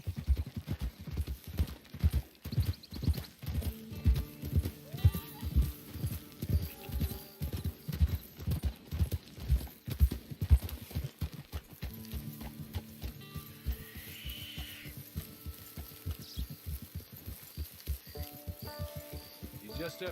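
Horse hooves clip-clop in steady trotting rhythm in Red Dead Online, close and clear, easing into a slower, sparser gait partway through alongside faint game ambience.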